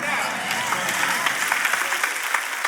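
Audience applause in a church service, a dense steady wash of many hands clapping across the whole moment, fairly close and even in loudness.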